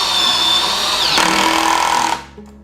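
A Mollar CIDR20351 20V brushless cordless impact drill runs at speed 1, a loud close motor whine that changes pitch briefly midway, then spins down and stops near the end.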